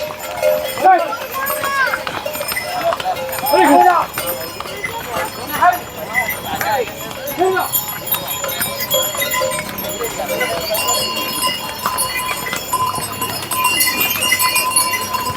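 Hooves of horses and mules clip-clop along the Kedarnath trek path as they walk past, with voices and background bustle mixed in throughout.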